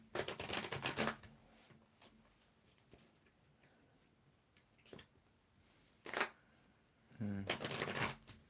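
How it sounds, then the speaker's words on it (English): A tarot deck is shuffled at a table in several close, crisp riffling bursts separated by quieter gaps, with a few faint taps between them. "I'm going to mix and match the cards together."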